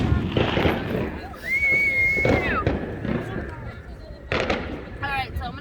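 A TNT snow cone firework fountain goes off at a Fourth of July celebration, crackling and sputtering steadily close by, with a brief whistle, while several people talk over it.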